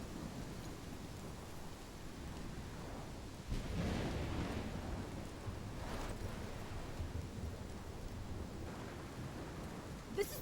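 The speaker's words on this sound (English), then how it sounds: "This is my storm." Steady rain and wind wash through a storm scene in the video game Life is Strange, a soft broadband hiss with a few faint rumbling swells; no distinct thunder crack stands out.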